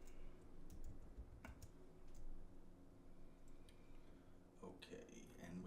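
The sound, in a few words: typing on a computer keyboard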